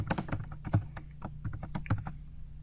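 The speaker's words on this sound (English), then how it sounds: "If I could type FICA Medicare payable." A computer keyboard typed on to enter a payroll account name, a quick close run of crisp key clicks in an uneven rhythm, with no voices.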